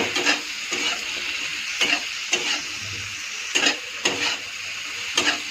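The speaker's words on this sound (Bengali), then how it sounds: "এখন কাঁটা ভেন্ডিটা ছেড়ে দেবে এর মধ্যে। ভালো করে এটাও মিক্স করে নেব।" Chopped okra is stirred into a hot frying pan, sizzling steadily while a utensil scrapes through it in regular strokes about once a second, close up with no voices.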